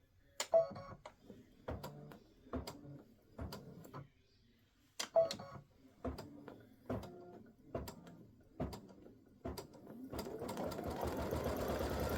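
A quilting sewing machine stitches an edge-to-edge autumn leaves design in short bursts of rapid needle clatter separated by pauses, then runs continuously at the end.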